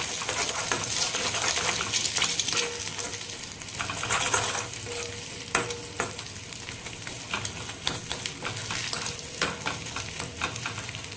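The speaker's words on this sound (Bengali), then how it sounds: "এখন ডিম ভাজছি" An egg sizzles and fries in a pan for breakfast while it is stirred and scrambled, the hiss steady throughout with frequent sharp scrapes and taps of a utensil against the pan.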